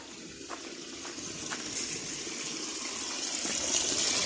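Water pours out in a steady, soft gush in a backyard garden, growing slightly fuller as it runs, with a few faint clicks and no talking.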